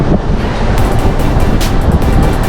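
Strong wind buffets the microphone beside the sea on reclaimed land, a steady loud roar with surf-like wash and gusts swelling throughout.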